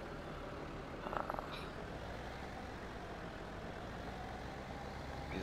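A tractor in Farming Simulator 17 drives on a North Frisian marsh farm map, its engine a steady, continuous low rumble from start to finish, with a brief cluster of metallic clicks near the second mark.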